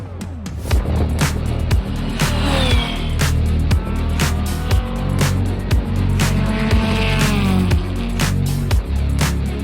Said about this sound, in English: Jackie has been hot lapping his Supra down the drag strip.